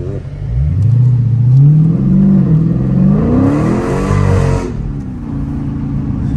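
A Dodge Challenger Scat Pack engine revs hard and loud, its pitch rising and falling through several throttle bursts before settling to a steady idle rumble.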